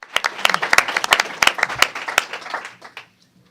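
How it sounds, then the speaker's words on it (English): Audience applause at a public policy forum, a brisk patter of many hands clapping that fills the room for about three seconds before quickly dying away to silence. "Thank you for that very optimistic applause."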